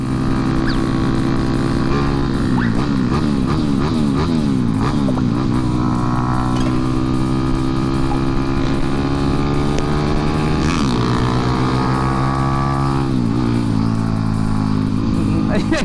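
A big-bore motorcycle engine revs loudly and close, its pitch climbing and dropping through repeated throttle blips, with voices talking over the roar.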